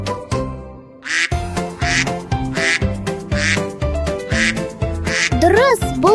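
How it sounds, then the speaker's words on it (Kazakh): Duck quacking in a children's animal-naming quiz, a run of repeated nasal quacks in bursts over a steady rhythmic backing track, ending with a rising chirpy tone. "Дұрыс, бұл үйрек."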